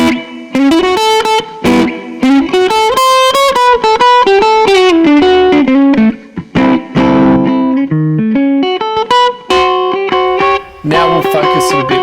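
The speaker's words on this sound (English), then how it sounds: "we'll take that guitar lick from before and let's apply Ableton's overdrive" An electric guitar lick is played through Ableton's overdrive distortion: a gritty, saturated run of quick notes and bends, loud and close with no talking.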